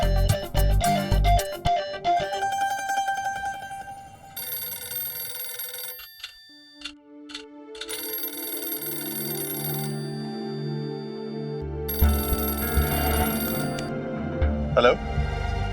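A telephone rings in a Hindi television drama, sounding in repeated bursts amid background music and brief voices.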